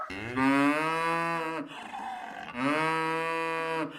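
Two long, loud cow moos in sequence in a traditional village in Breb, Romania, close by, each a drawn-out bellow with a short breathy pause between them.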